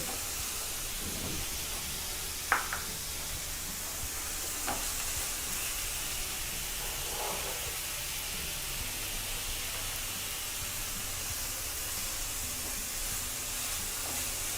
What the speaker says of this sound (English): We do not have to make the onions brown, they just have to be nice and pink. Just stir them.